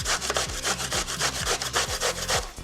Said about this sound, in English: I'm gonna grate it.